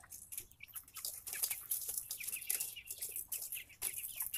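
Chickens cluck and chirp in a busy, overlapping chatter, fairly quiet and continuous, with no talking.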